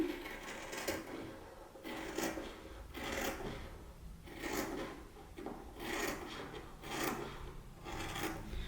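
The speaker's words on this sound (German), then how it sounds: "Jetzt schneide ich hier rein." Dirndl skirt fabric being cut into: a series of about eight rasping cutting strokes in a fairly regular rhythm, heard close and on their own.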